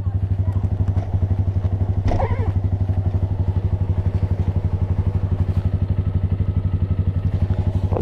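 A Honda Titan 160 motorcycle fitted with a Fortuna exhaust, out on night deliveries, rumbles with a fast, regular thumping exhaust pulse that is loud and close for the whole stretch.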